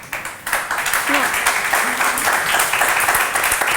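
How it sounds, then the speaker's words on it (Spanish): An audience applauds a guest named Raimundi, a dense wash of clapping sustained throughout at steady loudness, with a few voices mixed in underneath. "Un aplauso a Raimundi."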